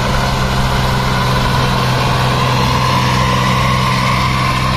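A Swaraj 735 FE tractor engine pulls a cultivator through a field at high throttle, a loud, steady low diesel drone with a constant hum and no breaks.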